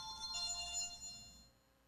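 A mobile phone ringtone chiming close by, a bright electronic melody playing steadily and then cutting off, with no talking over it.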